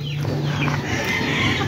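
A Lucky Gold white gold line gamefowl rooster calls close by, a loud, rough crowing cluck standing alone over a low background hum.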